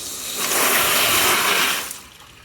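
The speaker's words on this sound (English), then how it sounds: "we have just phenomenal amount of water pressure now" High-pressure water gushes from a hose into dog-washing tubs, swelling to a loud, steady rush for over a second and then tapering off, with no talking.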